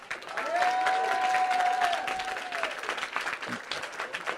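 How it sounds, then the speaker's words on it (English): An audience applauds the winners of a high school quiz final: a full burst of clapping, with a sustained whistle-like tone in its first half, before it gradually thins. "let's give a big round of applause for the great Pascal."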